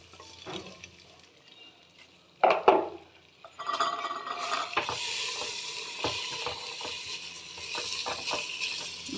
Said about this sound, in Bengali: দেখো এই চালটা আমি ভেজে নেব।